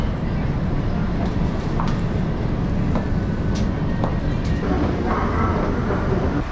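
Steady loud rumble of a Wuhan subway train in motion, with faint clicks and squeaks over the continuous roar and a few muffled voices underneath.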